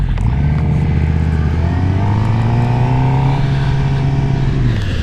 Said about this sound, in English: even more traffic here. I don't think I've known it to be this busy before